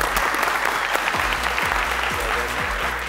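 A studio audience claps on a Family Feud-style game show, with dense, close applause holding steady for a few seconds.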